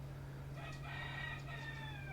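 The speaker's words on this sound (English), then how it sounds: "This fucking rooster's out here fucking around." Rooster crowing at midday, a single faint drawn-out call heard from a distance over a steady low hum.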